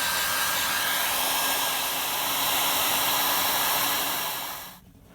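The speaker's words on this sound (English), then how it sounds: "a heat gun may or may not be a tool that you have at home, but it certainly helps with wiring" A handheld heat gun blows steadily for about five seconds, shrinking heat-shrink wire splice connectors during motorcycle battery wiring work, a broad loud airy roar that cuts off abruptly near the end.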